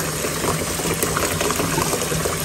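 Cold water for dyeing yarn, a dense continuous watery rush and gurgle, close and fairly loud, with no voices.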